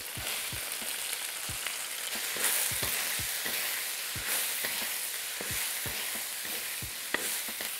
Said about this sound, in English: Now let's drop in the veggies.